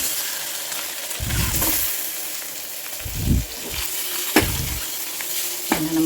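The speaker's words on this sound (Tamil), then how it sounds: "இது கூட நம்ம இந்த முட்டையை சேர்த்து நம்ம நல்லா பரட்டி எடுத்துக்குவோம்." Eggs stir-fried with turmeric and chili powder for biryani hiss in a pan, with loud scraping stirs and clanks at intervals over the sizzle, no talking.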